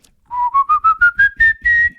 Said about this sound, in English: that's whistling